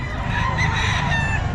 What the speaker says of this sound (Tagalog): Ayan, maraming mga manok.